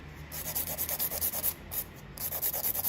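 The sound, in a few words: sanding the straight tip of a nail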